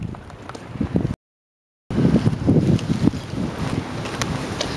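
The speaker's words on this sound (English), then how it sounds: "It is so windy." Strong gusty wind on a blustery day in Japan buffets the microphone in a steady low roar, broken by a brief silent gap before resuming just as loud.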